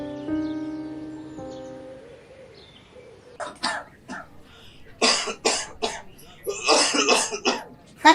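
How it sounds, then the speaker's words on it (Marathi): Repeated coughing from a person with a cough lasting about two weeks, in a short film about tuberculosis: after a faint tonal passage, a series of harsh, close cough bursts arrive in uneven clusters, ending with a sharp final cough. "काय 15 दिवसापासून खोकलून राहिला."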